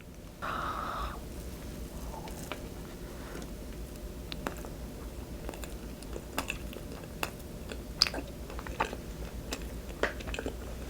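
Someone chews a convenience-store rice cake dessert filled with injeolmi cream and red bean, with quiet, close, soft bites and mouth sounds spread irregularly over a faint, steady background.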